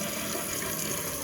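Water rushes steadily through a toilet fitted with a Danco HydroStop flapper, a dense, constant hissing flow with no breaks and no voices.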